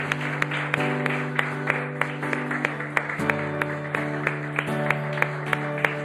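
Steady applause from a church congregation, continuous rhythmic clapping over a sustained organ or keyboard chord, moderately loud throughout.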